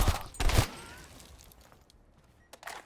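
Two quick, loud bursts of gunfire crack in Black Ops Cold War at the start, then fade into quiet with a faint later shot.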